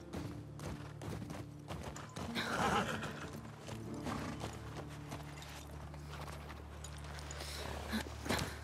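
A horse whinnies amid steady clip-clop hoofbeats in the video game The Last of Us Part II, with a constant game-like background bed and no talking.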